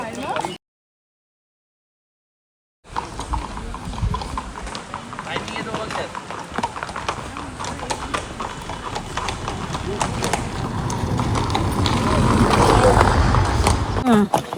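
Horses' hooves clip-clop in a steady walking rhythm at Matheran, close by, with voices talking over the hoofbeats; it grows louder toward the end.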